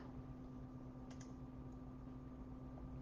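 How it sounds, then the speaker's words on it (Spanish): Faint, soft clicks of typing on a computer keyboard over a steady background hum, with a few light keystrokes and no talk. "Es que me pierdo con el sonido del teclado."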